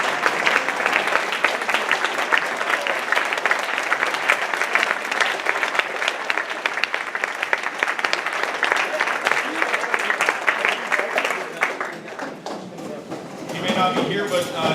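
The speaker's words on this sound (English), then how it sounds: "I want the boys now, again, to stand up and give them a round of applause" A room of people gives a sustained round of applause for the team captains' parents at a boys' team season gathering, dense steady clapping filling nearly the whole stretch before it tapers off near the end, with a little crowd murmur.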